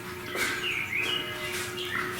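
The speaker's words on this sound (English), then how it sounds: "the birds are singing." Birds sing outside an open balcony door after rain, with several chirping calls and short whistled phrases over a steady low hum; no one speaks.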